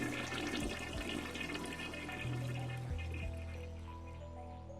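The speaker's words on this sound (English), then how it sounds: "I jump at the sound of a running shower" Running water in a bathroom in the visual novel Steins;Gate, a steady rushing spray with low plumbing tones, loud and continuous, fading slightly toward the end, with no voices.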